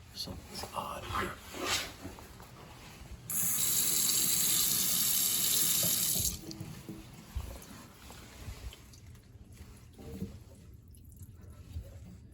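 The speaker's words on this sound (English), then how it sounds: "Let's turn on the water to the faucet." A kitchen faucet under a sink with a water filter system runs in a steady gushing stream for about three seconds in the middle, between stretches of quiet talking and small handling clatter.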